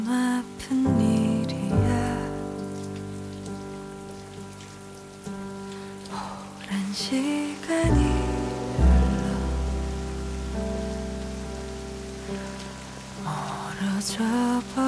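Rain falling steadily on a surface, a soft wash of drops running beneath louder music with a melodic, harmonic backing for the whole stretch.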